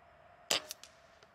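Rifle shot fired at a target as part of a five-shot group: one sharp crack followed by quick faint echoes, against an otherwise quiet background.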